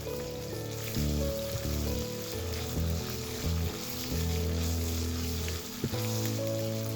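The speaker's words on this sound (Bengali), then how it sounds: "আমি আদা আর জিরাটা দিয়ে ভালো করে ভেজে নেব যেন মশলা থেকে কাঁচা কাঁচা গন্ধ না আসে।" Ginger and cumin paste fries in a pan, giving a steady, soft sizzle that runs under background music throughout.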